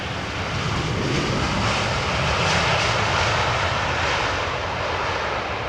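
An aircraft landing on runway 27R at London Heathrow Airport, a loud, continuous engine roar with a broad rumble that swells slightly midway, heard from nearby without any talk.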